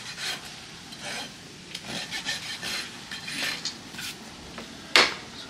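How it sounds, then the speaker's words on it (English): A farrier's rasp files the sharp edges of a steel horseshoe with a series of short, scratchy strokes at moderate volume, ending in one sharper metallic scrape. There is no speech. "we'll rasp off the sharp edges here"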